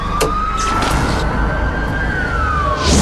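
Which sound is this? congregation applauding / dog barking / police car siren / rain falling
police car siren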